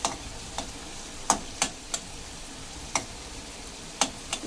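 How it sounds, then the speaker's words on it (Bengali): Chopped garlic frying in oil alongside katla fish for a kalia curry, a soft continuous sizzle broken by sharp, intermittent clicks and spatters at an uneven rhythm. "একটু হালকা ভাজা হবে।"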